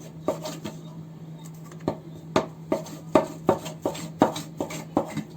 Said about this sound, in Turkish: ince uzun bir şekilde hemen doğrayacağım